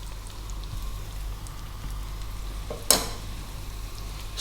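Chopped onion, thyme and garlic fry over above-medium heat for a fish pie, making a soft continuous sizzle and stirring noise, with one sharp clack near the end.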